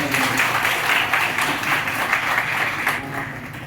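An audience at a university Life Science Department welcome program for students claps in sustained, dense applause that holds steady before thinning out near the end.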